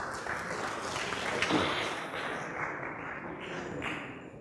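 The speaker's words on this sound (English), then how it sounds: "please give him a big round of applause" Faint, distant audience applause at a conference on human capital as a speaker is called to the stage, a soft wash of clapping that fades out after a few seconds.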